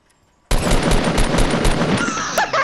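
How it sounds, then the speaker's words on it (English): Sustained burst of automatic gunfire in a first-person shooter video game, starting abruptly and rattling loudly for about two seconds before tapering off, with brief electronic game chimes near the end. "Shoot him. Kill him."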